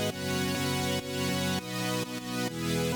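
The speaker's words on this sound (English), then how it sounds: "This is just a big super saw stack." A big detuned super saw synthesizer stack plays a main chord spread across two octaves, with loud, dense sustained chords that change several times in a steady rhythmic pattern.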